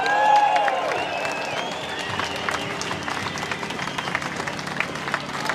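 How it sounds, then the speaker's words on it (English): Outdoor rally crowd at Parliament House, Melbourne, cheering and clapping after an announcement, a loud whistle at the start followed by sustained applause with scattered shouts. "Give yourself a big cheer!"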